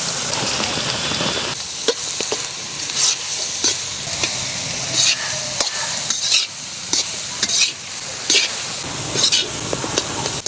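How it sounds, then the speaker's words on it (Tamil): Ragi flour dry-roasting in a pan with mustard seeds, curry leaves and dried red chillies, a steady soft sizzle with repeated scraping stirs of a spoon across the pan, close up. "மிதமான தீயிலே நல்லா வறுத்து எடுத்துக்கலாங்க"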